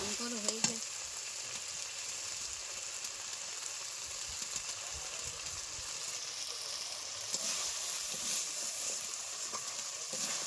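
Crab stir-fried in a pan for a spicy crab curry, a continuous close sizzle and crackle with occasional scraping stirs, loud and steady throughout.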